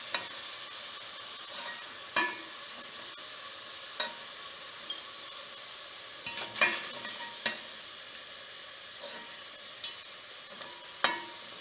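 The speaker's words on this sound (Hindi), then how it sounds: "तकरीबन 4 से 5 मिनट के लिए आलू को फ्राई करेंगे।" Potatoes frying in a pan, a soft continuous sizzle punctuated by occasional sharp stirring knocks and scrapes spaced a second or two apart.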